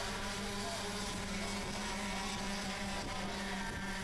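Racing karts droning steadily through a KA3 Senior Heavy kart championship final, a continuous layered engine buzz from a small pack of six karts, loud and unbroken with no pauses.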